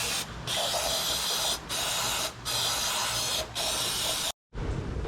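Carb cleaner sprays onto a Yamaha V-Star 650 motorcycle engine in steady, loud hissing bursts with brief pauses between them, then cuts off abruptly before a final short spray.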